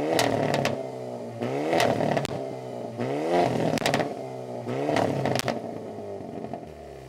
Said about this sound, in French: Je vais aller faire quelques pop and bang pour que vous puissiez voir la différence.